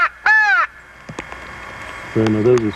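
A single nasal caw from a fish crow in Georgia opens the moment, loud and close, followed by quiet and then a low, droning voice-like sound near the end.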